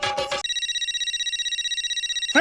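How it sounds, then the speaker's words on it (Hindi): A telephone rings in a steady rapid electronic trill lasting about two seconds, clear and alone, with brief voices just before and after. "पोपट अंकल का फोन है।"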